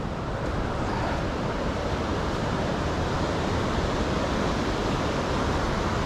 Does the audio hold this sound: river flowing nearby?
yes